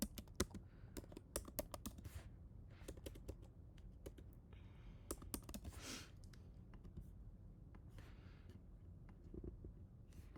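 Keys clatter on a computer keyboard while text is entered for an album cover design: quiet, close, irregular bursts of rapid keystrokes with short pauses and no talking.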